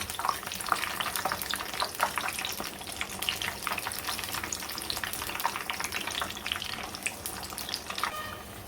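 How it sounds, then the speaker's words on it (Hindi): Breaded potato cutlets frying in hot oil in a pan over a medium gas flame, a steady dense sizzle with crackling bursts throughout, close and continuous with no talk. "दो दो करके हम डालेंगे और इनको फ्राई कर लेंगे"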